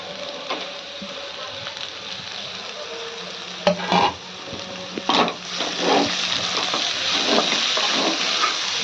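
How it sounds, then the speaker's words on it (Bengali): Drumstick leaves fry briefly in a pan with green chillies for a Bengali saag dish. A soft, steady sizzle runs throughout, broken by several sharp clatters and scrapes of stirring. No voices are heard. "সজনে পাতা দিয়ে তো বেশি ভাজতে নেই,"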